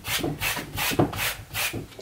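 An old paintbrush being washed, scrubbed back and forth in rhythmic rubbing strokes, close and fairly loud with no voices.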